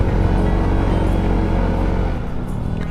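Motorcycles labour along a narrow, potholed mountain road high in Luzon, producing a loud, close, continuous engine rumble that drops slightly near the end.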